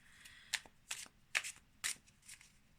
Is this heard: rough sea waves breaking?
no